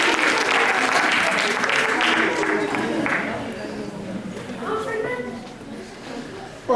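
A school audience of primary pupils gives a strong burst of applause for the sixth-grade debate team, with dense clapping at full volume for several seconds before it fades under murmuring voices.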